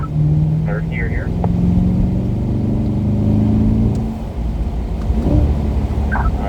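A C8 Corvette's engine pulls hard out of a corner on a racetrack and runs up through the gears. The engine note is loud and steady and close, and someone talks over it the whole way through.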